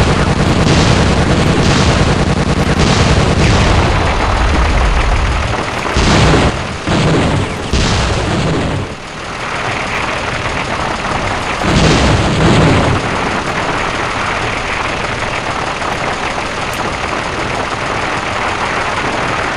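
A tank in the video game Gunman Chronicles drives and fires: a loud, steady engine rumble runs throughout, broken by several heavy booming shots, mostly in the first half, with no talking.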